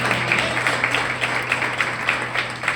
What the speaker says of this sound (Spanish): Yo diera un fuerte aplauso al que vive la autoridad